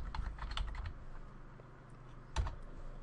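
A computer keyboard clacks under quick typing, a short cluster of close, soft key taps followed by a pause and one firm press.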